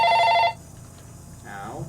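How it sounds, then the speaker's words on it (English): A telephone on a nightstand rings in a video game, a short trilling bell burst at the start that stops abruptly, followed by quiet ambience and a brief tonal sweep. "The phone on her nightstand rang, causing her to wake with quite a jolt."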